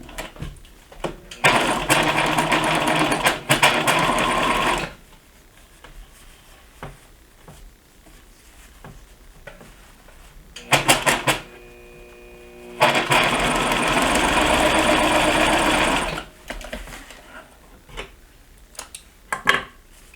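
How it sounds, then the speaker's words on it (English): A sewing machine stitches the back seam of a fabric hair scrunchie in two steady, loud runs of several seconds each, separated by quieter handling noises and pauses. "we're going to stitch those down to create that seam in the back of the scrunchie"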